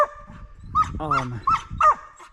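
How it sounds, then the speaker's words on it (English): A dog on the Appalachian Trail yelps and whimpers in short, high, anxious cries, four or five close bursts, wanting to catch up with passing hikers. "So he's yelping because he wants to catch up to them."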